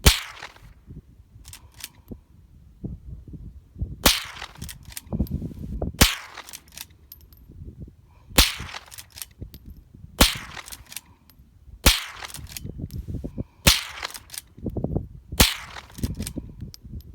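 Henry .22LR lever-action rifle fired at a stump about 75 to 100 yards off outdoors, nine sharp cracks spaced roughly two seconds apart, each followed by a brief rustle of cycling the lever, with no talking.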